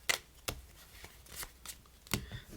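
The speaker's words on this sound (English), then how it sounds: "You can continue mixing up the deck." A deck of playing cards being shuffled by hand during a card trick, heard as several crisp riffling bursts spaced irregularly, close and fairly quiet with no talking.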